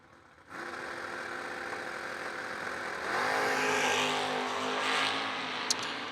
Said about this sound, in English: Couple of wheel standing classic Chevys on the starting line.